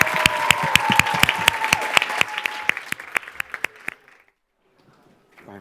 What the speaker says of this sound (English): Let's give him a round of applause as he comes up.